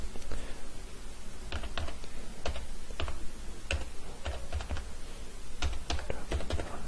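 Rapid clicking of fingers typing a twelve-digit Aadhaar identity number on a computer keyboard, keystrokes coming in short uneven bursts close to the mic, with no talking.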